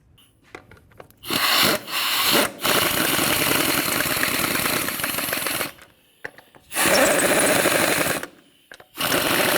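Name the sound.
putting lug bolts into Mini Cooper wheel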